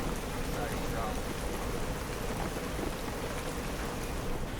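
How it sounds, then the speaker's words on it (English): Heavy rain pours steadily and loudly throughout during an outdoor running race, a dense unbroken hiss with a faint low rumble beneath it. "It is raining cats and dogs."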